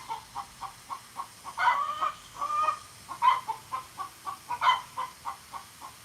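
A chicken clucks repeatedly in a regular rhythm, broken by several louder drawn-out squawks, nearby with no other sounds around.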